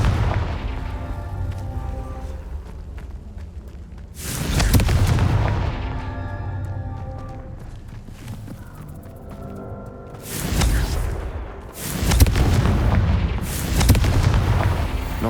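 Confringo spell blasts in Hogwarts Legacy, three heavy booming explosions in quick succession, loud and close, each followed by a rumbling decay over a background of game ambience.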